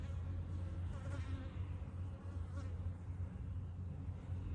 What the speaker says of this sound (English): Bees are moving around quite a bit in here.